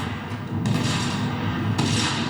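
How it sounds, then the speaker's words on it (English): Heavy, continuous rumbling booms with a dense low-end roar, a sustained barrage of enemy explosions in the co-op video game Void Crew that swells slightly partway through. "the enemy explosions"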